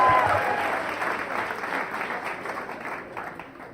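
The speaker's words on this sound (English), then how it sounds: "big round of applause for Matt" An audience at a live storytelling slam applauds a storyteller, a steady wash of clapping that starts strong and gradually fades, with a brief voice near the start.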